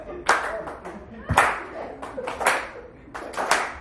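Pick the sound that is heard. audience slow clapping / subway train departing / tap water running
audience slow clapping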